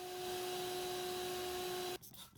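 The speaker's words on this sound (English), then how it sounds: "So we got our vacuum going." A vacuum runs with its hose jammed into the tailpipe of a 2013 Honda Fit for an exhaust leak test, giving a steady loud whine with a constant tone that drops off abruptly near the end.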